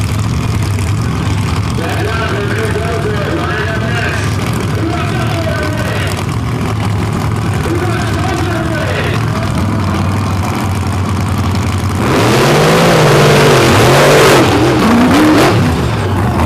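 Demolition derby cars idle and rumble loudly at the start line, then roar as they rev and launch hard together, an announcer talking over the engines.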